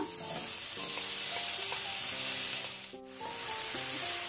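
Onion and small tomato frying in a pan with steady, bright sizzling while a spoon stirs and scrapes the pan now and then, close and continuous, with no talk.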